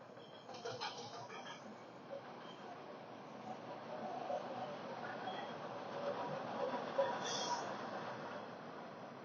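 A Boston Red Line subway train running, with a steady muffled rumble and faint rattling throughout, a squeal near the end, heard from inside the car.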